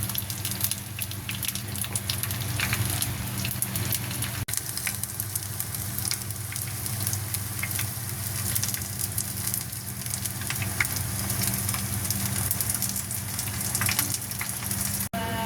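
Lumpia spring rolls frying in hot oil, a long, steady close sizzle with bubbling crackles and a low hum underneath, with no talking.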